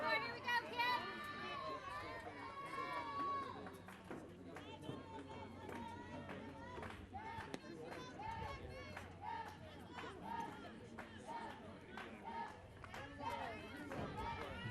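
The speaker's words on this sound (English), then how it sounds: "Vocal dugout from Southeastern. You hear them cheering." A softball dugout crew cheers and chatters steadily through a game, a lively babble of young voices with bursts of shouting that stays up close and continuous.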